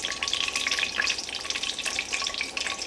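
Cashews with cinnamon and cardamom frying in hot oil for a vegetarian pulao, a steady close sizzle with crackling bursts running throughout, no voices.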